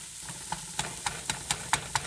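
Chopped onion sizzles in a pan for meatloaf, a faint even hiss broken by regular light ticks and scrapes of stirring.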